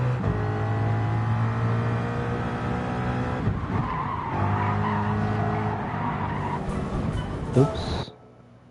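A Ford Mustang race car in Gran Turismo 7 slides with tires squealing over a steady engine drone for about eight seconds, ending abruptly, with a voice speaking over part of it.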